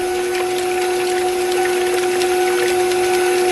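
An electric mixer churns whipping cream as it turns to butter, giving a constant loud motor whine with steady tonal hum and a wet splashing hiss from the liquid, running unbroken with no talk.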